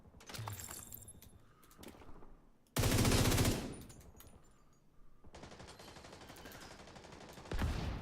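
Video game gunfire: automatic weapon bursts and scattered shots come in irregular stretches, with one loud sharp burst near the middle and another short burst at the end, over a low background.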